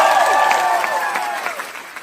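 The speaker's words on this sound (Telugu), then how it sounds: "audience claps" Audience applause at a special screening of the film Eega in Paris, a burst of clapping from a theatre crowd, loud at first and easing off slightly, with tonal sounds layered over it.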